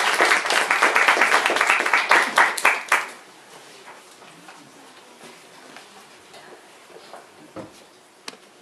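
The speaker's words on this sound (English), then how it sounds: "let's please welcome her with a big round of applause." An audience at a talk breaks into dense applause that welcomes a speaker, loud for about three seconds, then drops abruptly to faint room noise with a few scattered late claps.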